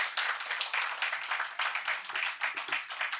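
An audience claps for a girl's poetry recitation at a literary gathering: roughly three seconds of brisk, steady applause from a modest crowd, somewhat distant and fairly soft.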